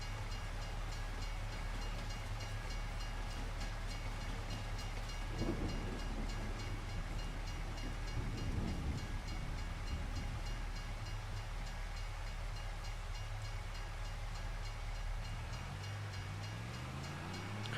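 A train in the Farming Simulator 25 video game on the Elk River map rolls past, with a steady, faint rail rumble and hiss, brief swells midway, and a rising tone near the end.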